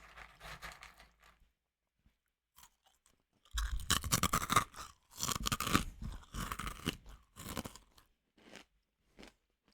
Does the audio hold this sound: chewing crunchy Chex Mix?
yes